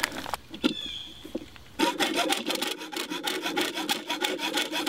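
A hacksaw cuts rubber strips to length for a flume, starting with a few scattered scrapes and then settling into a steady, close, rapid back-and-forth rasp of even strokes with no talking.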